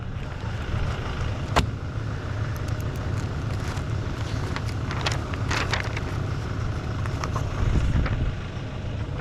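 An Arbos 3000 series tractor drives up with a steady, continuous engine rumble close by, joined by faint clicks and rattles, with no voices.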